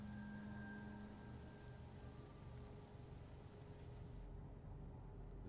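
Steady rain falling on an alien planet in the game No Man's Sky, a dense, even hiss of drops with a faint low rumble beneath, continuing without pause.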